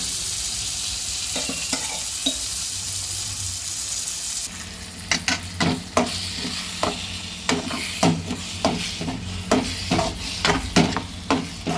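A spoon stirs cooked dal into a sizzling tempering of garlic and ginger paste in a pan, the soft frying hiss broken by repeated scraping knocks against the metal that grow sharper and more regular over time.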